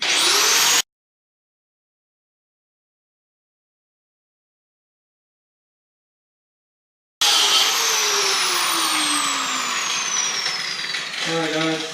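Someone is grinding rust off a Mopar 8 3/4 differential. A short harsh grinding burst cuts to silence, then a long, loud, steady abrasive roar follows, with pitches sliding downward as the grinder's speed changes.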